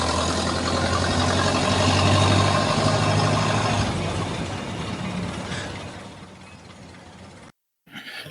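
Ford Model A engine running as a sound effect, a steady, close mechanical rumble that slowly fades, then cuts to silence before a brief return.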